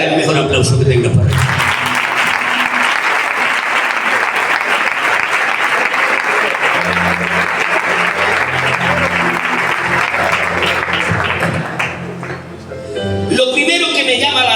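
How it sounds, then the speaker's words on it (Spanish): Loud, sustained applause fills a church youth gathering in Vallecas after a call to clap for the preacher, dense clapping carrying on for over ten seconds with voices surfacing at the start and end. "Dale el mejor aplauso que tenga para él."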